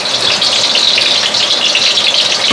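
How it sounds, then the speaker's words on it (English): A pot of beef bubbling on the stove, giving a steady, loud gushing and bubbling noise that stays constant the whole time with no voices. "Dad, it's bubbling."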